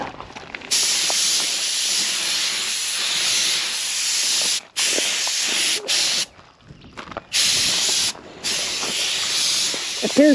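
A spray gun lays Komatsu paint onto parts of a 1939 Caterpillar D4 with a close, loud hissing spray that comes in several bursts of a few seconds each, split by short pauses.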